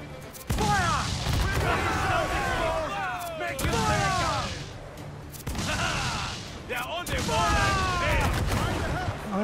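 Ship cannon fire during a naval battle in Assassin's Creed Black Flag: loud broadside booms in several waves, each trailed by whistling and crashing debris, with a voice speaking over the barrage.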